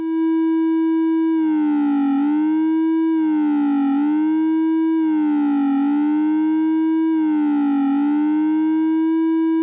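A 555-based AE Modular synth module holds a steady, buzzy tone while the attack knob is adjusted. Four evenly spaced, swelling sweeps rise and fall over the drone, with no voices.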